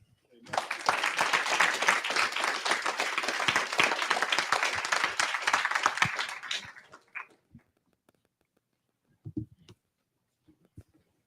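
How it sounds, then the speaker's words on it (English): An audience at the West Louisville Forum bursts into loud, dense clapping and cheering for about six seconds, then it dies away to a few scattered claps and small sounds. "Please clap as hard as you can, cheer as loud as you can."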